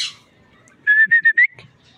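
Whistling to call a pet bird: a few short, bright whistled notes in quick succession after a faint high chirp, clear and close in a quiet setting.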